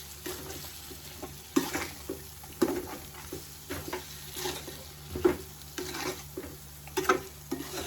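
Brinjal pieces stirred through a hot, spicy Telangana-style masala gravy in a pan, a spoon scraping and tapping the pan in repeated strokes over a low, steady sizzle, close and without talk.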